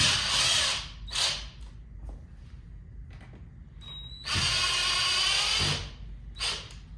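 A power driver whirs in short bursts as screws come out of the lid of a Kaleido M1 home coffee roaster, alternating loud close spins with brief quiet pauses and small clicks, and no talk.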